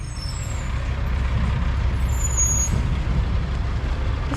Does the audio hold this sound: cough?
no